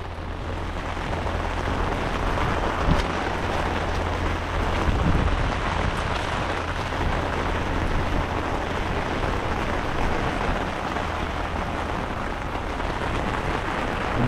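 Heavy rain falls at sea around small fishing boats, a steady broadband hiss of drops striking water and surfaces, with a low rumble beneath and no talking throughout.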